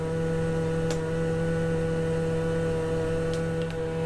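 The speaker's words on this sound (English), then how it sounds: "I'm going to do normal vac. It's going to suck all the air out, of course," An Abox V63 vacuum sealer pulls the air out of a bag of lettuce with a steady, droning motor hum throughout, broken by a few faint ticks.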